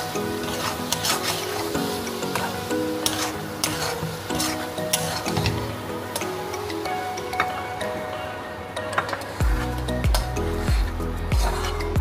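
Shrimp and banana flower curry with a pinch of garam masala is stirred in a pan, a steady spoon-scraping and soft sizzle that runs throughout, with pot and utensil clatter and heavier knocks near the end.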